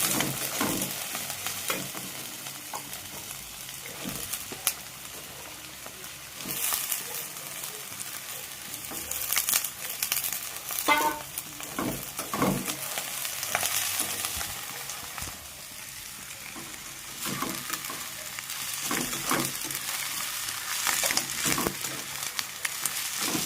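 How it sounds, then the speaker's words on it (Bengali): Potatoes for a Bengali potato fry sizzle steadily in a hot pan while a spatula scrapes and stirs them in repeated strokes, the frying close and continuous throughout. "রান্না করছি খুজলি আলু ভাজা"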